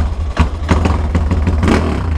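A 371cc motorcycle engine on a race bike catches and revs hard, its rough, clattering roar rising in quick throttle blips, close and loud with no talk over it.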